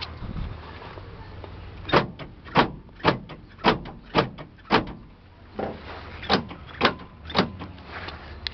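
A series of sharp, evenly spaced thumps and latches, about a dozen in quick succession with a short pause, like a Chevrolet Suburban's doors being worked open and shut nearby.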